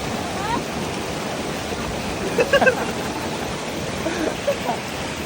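Okatse (Kinchkha) waterfall in Georgia pours as a steady, broad rushing roar that fills the whole clip, with a few brief louder splashes or knocks near the middle.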